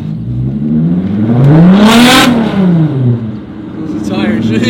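Car engine revving up and easing off under steady load while driving on a cold day to warm it up, with a rising and falling pitch sweep peaking mid-clip; a voice talks over it.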